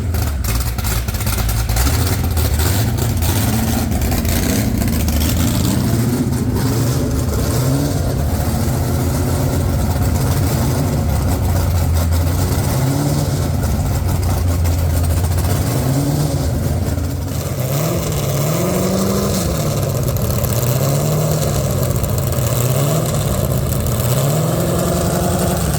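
A Ford GT40 replica's engine runs loud and steady throughout, a rough idle broken by repeated revs that swell and drop back, the engine alone with no voices.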